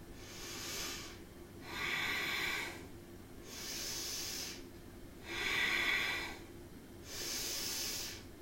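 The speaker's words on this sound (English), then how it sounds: "Let's go for that strong breath" Strong, forceful breathing during a core exercise for the navel centre: four slow, rhythmic breath cycles, each a breathy hiss swelling and fading, close and fairly quiet, with no talking.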